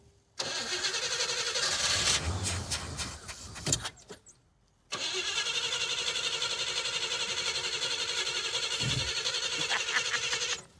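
A 1978 Chevy El Camino diesel engine cranks and catches, dies out briefly with a few knocks, then cranks again into a long, steady loud run.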